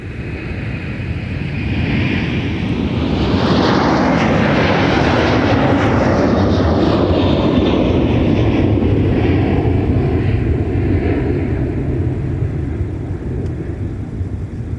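An airliner with GE jet engines passes at MSP airport, a loud, steady roar that swells as it approaches and then sweeps away with a shifting whine, sustained for the whole stretch without speech.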